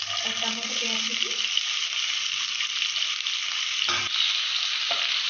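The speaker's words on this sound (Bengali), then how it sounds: "ভালো করে ফ্রাই করে নেবো আমি পেঁয়াজটা।" Chopped onions fry in oil in a pan for chilli chicken, a steady, close, full sizzle lasting throughout, with a couple of brief scrapes of stirring near the end.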